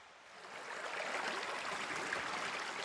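Creek water flowing through woods in the Bell Mountain area, a soft, steady hiss of running water that swells slightly after the first moment and holds at a constant, fairly distant level.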